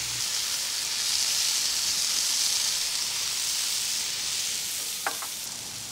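Fajita meat sears on a hot griddle with a loud, continuous broad sizzle and hiss, close and steady, with a brief clink near the end.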